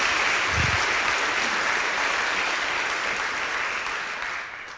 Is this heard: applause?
yes